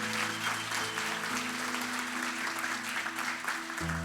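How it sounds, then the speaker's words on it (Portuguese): A church congregation breaks into sustained, dense applause during a worship service, a steady wash of clapping with sustained musical tones underneath throughout. "Quem pode dar uma salva de palmas para o Senhor?"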